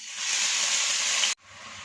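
Chopped onions hit hot oil in a pan with a loud, bright sizzle that holds steady, then cuts off abruptly and returns quieter as it settles.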